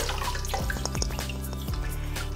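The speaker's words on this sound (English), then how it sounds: "you just wash it under the water" Water runs from a kitchen tap while a partly frozen chicken is washed under it, giving a faint steady splash with a few sharper drips and shifts in the flow, and no talking.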